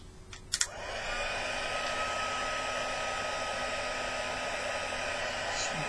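A heat gun blows hot air over receipt paper, a steady loud whooshing roar close by that runs continuously after a couple of brief clicks at the start.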